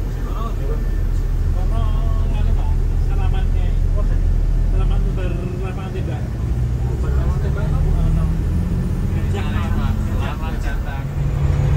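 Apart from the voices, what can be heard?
New Armada coachwork bus driving at high speed, heard in cabin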